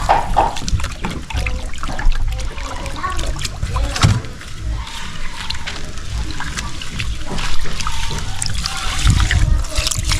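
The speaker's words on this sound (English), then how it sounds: "I'm going to be washing the rice because the water right now is ready" Rice being washed by hand in a pot of water outdoors in a Ugandan village while pilao is prepared. Close, steady sloshing, splashing and trickling water with small clinks, fairly loud throughout.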